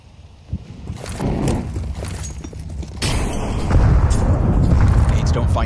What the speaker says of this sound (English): Those frag grenades do nothing for Vitality.